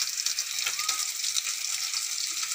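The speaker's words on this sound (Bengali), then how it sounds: "চিংড়ি মাছটা ভেজে নিচ্ছি" Shrimp fry in a pan on a home stove, giving a steady close hiss and crackle of sizzling oil, with a voice talking faintly under the noise.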